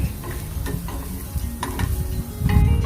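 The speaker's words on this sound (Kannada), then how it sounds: "ನೋಡಿ ಚೆನ್ನಾಗಿ ಫ್ರೈ ಆಗಿದೆ." Capsicum with onion fries in a pan over a medium gas flame, crackling and hissing while a utensil scrapes and stirs in uneven bursts, loud and close.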